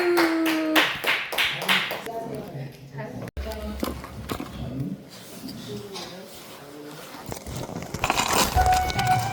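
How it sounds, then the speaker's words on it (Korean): An audience at a Christmas Eve church recitation event claps together in a dense, lively round of applause, with a short break in the middle and voices and music mixed in throughout. "박수."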